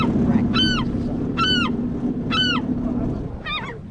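Seagulls call near their nest with hatched chicks on Humboldt Bay: four loud, evenly spaced harsh calls with falling tails, close by, over a steady low engine-like drone.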